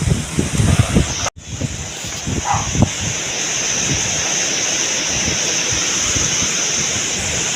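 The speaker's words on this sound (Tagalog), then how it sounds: "Grabe ka kusog hangin guys." Strong wind during a typhoon, roaring with a constant, loud rush after a brief, gusty, buffeting start and a momentary dropout.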